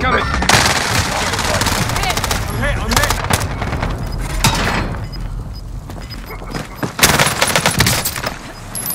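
Gunfire in the video game Resurgence, with dense bursts of rapid shots and sharp cracks crowding together and a few heavier booms, loud and close throughout, mixed with voice and game sounds.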